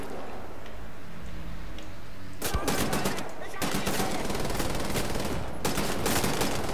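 Rapid bursts of gunfire from Wolfenstein: The New Order, quiet at first then erupting into sustained automatic fire with sharp repeated shots, a final cluster near the end, with a voice talking over it.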